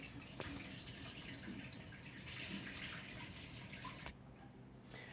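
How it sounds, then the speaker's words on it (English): Water drains off oyster mushrooms that had been soaking in a vinegar solution, a quiet steady pouring and splashing that runs for several seconds before easing to a softer trickle. "So I'm about to dump the water out of these bad boys"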